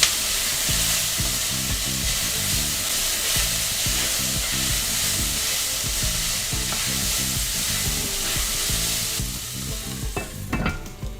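Garlic and vegetables for shrimp and sausage jambalaya sizzle in a pan, a dense steady frying hiss with rhythmic stirring scrapes and knocks throughout, close and moderately loud without speech.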